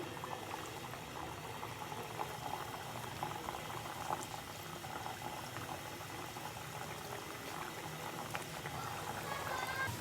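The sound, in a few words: tikkis deep frying in oil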